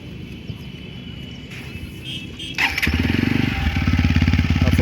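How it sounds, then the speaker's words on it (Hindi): A 2022 TVS Apache RTR 160 4V BS6 motorcycle starts up partway through, after quiet background noise, and its exhaust settles into a loud, close, steady throbbing idle with a fast even pulse. "आपको इसका एग्जॉस्ट साउंड सुना देता हूँ।"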